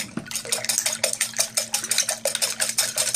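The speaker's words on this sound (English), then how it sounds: "we're just going to go ahead and whisk this" A whisk beats a mixture with half and half in a bowl, rapid rhythmic clinking strokes at a steady pace, close and clear with no talking.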